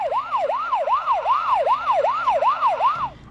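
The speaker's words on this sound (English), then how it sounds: "I am a police car." Police car siren wailing in a steady, rapid up-and-down yelp, loud and close, cycling about eight times before cutting off, with no other sounds.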